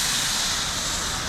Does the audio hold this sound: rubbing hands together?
no